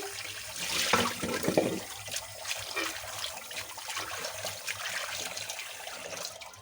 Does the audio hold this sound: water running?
yes